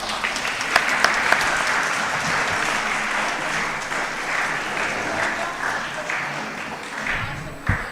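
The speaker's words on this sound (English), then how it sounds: "Can we have a huge round of applause?" A large audience at a medical conference applauds in a dense, sustained wash of clapping for about eight seconds, steady throughout and fading slightly toward the end, with a few sharper claps standing out near the start.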